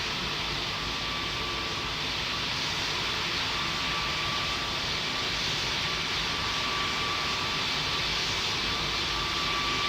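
An Emirates heavy jet lands in the Pilot Training Flight Simulator game, its engines giving a steady, loud, wideband whooshing roar that continues unbroken, without speech.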